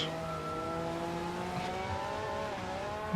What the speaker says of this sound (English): I'm hitting the brakes.